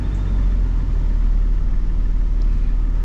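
Low, steady engine rumble of a Jeep Cherokee with about 314,969 miles idling rough close by with the air conditioner running, with a slightly uneven, pulsing throb.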